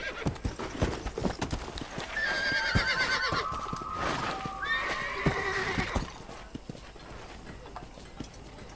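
Hooves clip-clop steadily while a horse whinnies loudly several times in Red Dead Redemption, with game ambience and occasional voices underneath.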